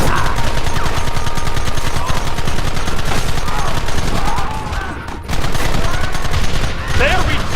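A dense Red Dead Redemption gunfight, continuous overlapping rifle and pistol shots crackling loudly throughout, briefly thinning near the end, with shouting voices mixed into the battle.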